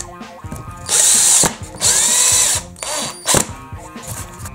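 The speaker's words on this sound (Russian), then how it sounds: "Вкручиваешь саморез в фанеру, и он не утопает в фанере." A drill drives a screw into plywood in four short bursts of loud, high whirring, with brief ratcheting clicks and quiet pauses between them.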